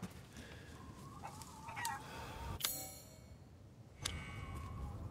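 Chickens cluck in the Resident Evil Village video game, with short scattered clucks and squawks at moderate distance, punctuated by a couple of sharp ringing clanks, with no talking.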